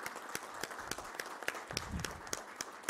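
Steady applause from a group at a plenary meeting session, dense overlapping claps continuing throughout at moderate volume.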